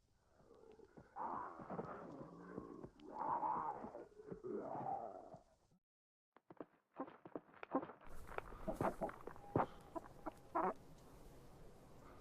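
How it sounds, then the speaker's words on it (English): Minecraft chickens cluck in a few short bursts, then soft blocky footsteps and clicks from the game follow after a brief silence, all fairly quiet. "Chickens."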